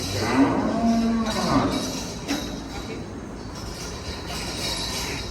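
A cow on a Narayanganj cattle farm, one of many raised for Eid al-Adha sacrifice, gives a short, low moo near the start, followed by steady background farm noise.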